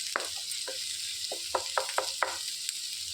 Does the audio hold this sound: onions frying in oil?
yes